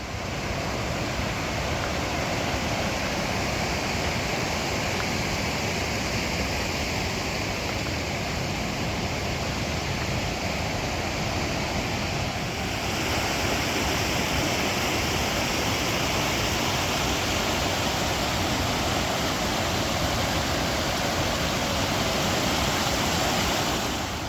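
A stream runs high along a hiking trail in Paintbrush Canyon, Grand Teton National Park. It makes a constant, close, full rushing roar that barely varies throughout.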